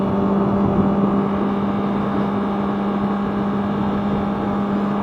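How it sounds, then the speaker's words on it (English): A 2011 Honda CBR600RR sport motorcycle exhaust gives a steady, droning engine rumble that holds at an even pitch throughout, close and continuous with no voices. "Again, I love the exhaust."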